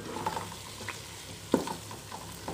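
Chicken with capsicum stirred in a pan, a soft steady sizzle with a few spoon scrapes and knocks against the pan, close and fairly quiet with no talk.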